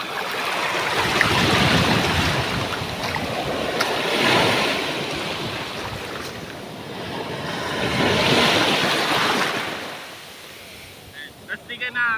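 Surf crashing onto a seashore in repeated slow surges of roaring water, each building and fading, fairly close, with wind buffeting the microphone and brief clicks near the end.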